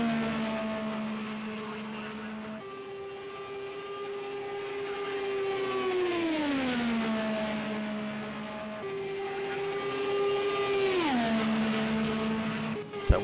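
Dado's number 6 Ed Carpenter Racing Chevrolet IndyCar howls through qualifying laps at Indianapolis, a steady high engine drone with two clear downshifting pitch drops as it slows into corners, then climbs again, heard from onboard.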